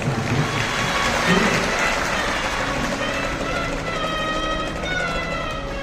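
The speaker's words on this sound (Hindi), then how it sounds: "एक बार जोरदार ताली बजाएं" An audience at a Shiva Mahapuran katha in Bathinda claps loudly, a dense roar of applause mixed with crowd noise, while a tonal voice or music rises over it in the second half.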